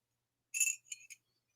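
Coffee cups clinking together for a toast: one bright ringing clink followed by two quicker lighter taps, close and clear against silence.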